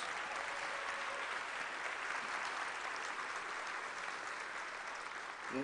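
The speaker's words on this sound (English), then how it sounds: "Would you give them a round of applause?" Audience applause for school board members at a school district's opening day program, a steady sustained clapping from a large crowd that fades slightly at the end.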